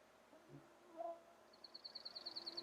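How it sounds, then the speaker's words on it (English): A junco and chickadees sing faintly in woodland on a June walk, a soft whistled note early on, then a quick, evenly spaced high trill of repeated chirps rising in the background. "But we have a junco singing. We have chickadees singing."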